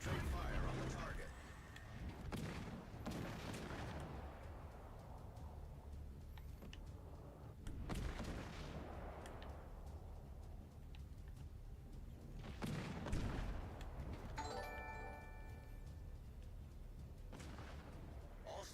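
Naval artillery from warships in World of Warships: Legends booms in several heavy broadband salvos spread through the clip, over a constant low battle rumble, with talk present at times.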